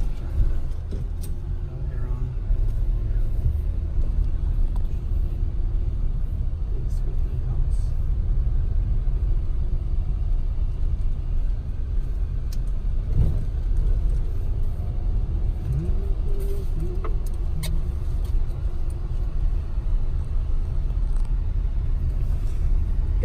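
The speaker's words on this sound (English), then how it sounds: "There's a car there." A car rolls past on a street near a private international boarding school, a steady low engine rumble and tire noise close by with a faint swell mid-clip, while people talk over it.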